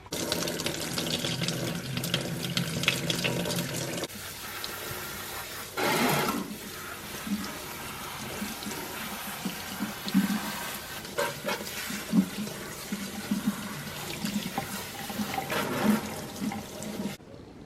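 Tap water running steadily into a sink or tub while a child's hair is washed at home, a soft, continuous splashing stream with a brief louder gush and small bumps of movement.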